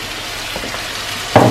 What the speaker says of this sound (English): start like mixing it and letting it sizzle